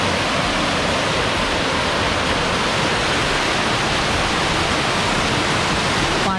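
Rushing water pours down at the reverse waterfall at Bhandardara, a loud, steady roar of broadband noise that holds unbroken and close from start to finish.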